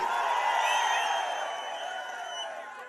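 Crowd at an AIADMK political rally near Hosur, cheering and whooping in a dense, sustained roar that stays strong and then eases slightly toward the end, with no clear speech on top.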